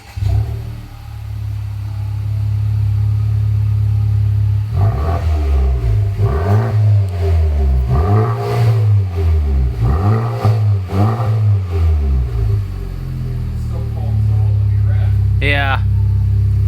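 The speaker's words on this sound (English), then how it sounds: "Cold start. Can't rev it yet." A Honda Civic Type R FK8 with an HKS Legamax exhaust idles loudly and close on a cold start, a deep steady drone with a rhythmic pulsing burble, not revved; a voice briefly speaks near the end.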